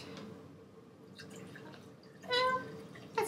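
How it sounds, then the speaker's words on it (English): Vinegar poured into a tall glass in a kitchen experiment, faint trickle and drips early, then a brighter, louder pouring burst near the end, close by. "I'm just going to pour a little bit of vinegar in here."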